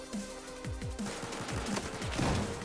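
Rapid bursts of automatic gunfire crackle through a Battlefield 4 match, with repeated sharp shots in quick, uneven succession layered over a busy, noisy game background.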